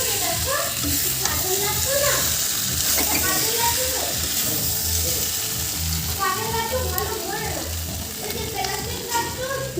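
Homemade country chicken curry with fried potatoes sizzles in a pan as a spatula scrapes and stirs it steadily against the bottom, close and continuous, with a voice talking over the cooking.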